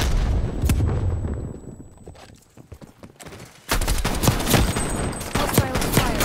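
Video game gunfire: dense, rapid crackling bursts that sound like a sustained fusillade, dropping off briefly midway before resuming loudly and continuously.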